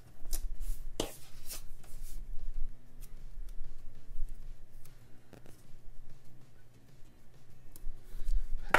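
Scissors snipping out a paper seashell shape for a planner spread, a run of close, crisp cuts and paper rustles coming in irregular bursts, with no talking.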